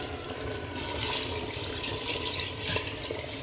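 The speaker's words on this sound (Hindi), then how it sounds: "चल अभी डाल दे पानी जो ज़रूरत है हमारी।" Water pours steadily into a cooking pot in a home kitchen, set out for a chicken and turnip gravy, giving a continuous close splashing rush that swells midway and carries no talk.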